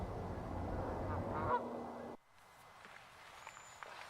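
A goose honking and calling in a short outdoor burst, fairly close, with a brief harsh note before the sound drops away into quieter ambience.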